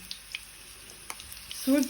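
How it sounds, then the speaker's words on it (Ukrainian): Faint, quiet sizzle of battered cauliflower frying in a pan, with scattered soft crackles and pops and a brief louder burst near the end. "На розігріту сковорідочку викладаємо нашу капусточку і обсмажуємо із всіх сторін."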